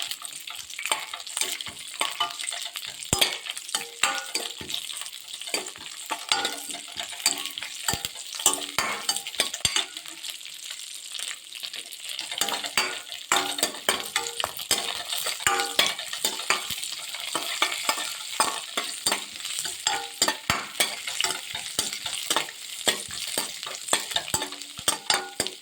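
Cashews and raisins fry in ghee beside ripe papaya halwa, stirred constantly: close, busy sizzling crackle with rhythmic scraping of a spoon against the pan, alone without talk.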